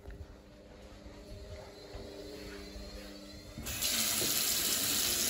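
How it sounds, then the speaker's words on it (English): Water runs from a tap into a sink at a quiet, steady trickle, then the flow is opened up and becomes a louder, rushing gush for the last second and a half. "So you just rinse that under the sink?"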